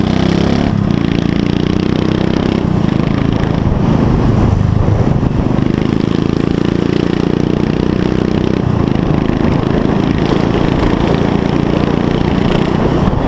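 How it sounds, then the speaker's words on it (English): Royal Enfield Continental GT motorcycle under way, its engine a constant loud rumble mixed with heavy wind buffeting from riding, steady throughout with slight shifts in pitch. "This bike runs fast."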